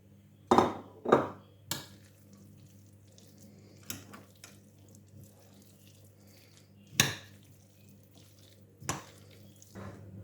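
Salad being mixed with mayonnaise and pomegranate seeds: a few sharp spoon-on-bowl knocks and scrapes, separated by quiet pauses, close by in a quiet kitchen.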